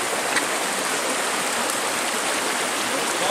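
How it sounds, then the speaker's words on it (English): Cold mountain stream on an elk trail rushing steadily during a wading crossing, a loud, close, unbroken wash of flowing water with no talk. "And let the stream crossing begin for the second time."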